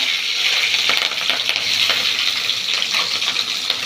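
Steady, bright sizzling of onions, green chillies, fennel, cinnamon and cloves frying in hot oil, with occasional stirring scrapes throughout and no voices.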